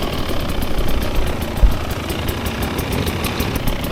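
A 2024 Husqvarna TE 300 dirt bike engine idles close by with a steady low chugging, a fast even ticking pulse running through it and one brief thump partway.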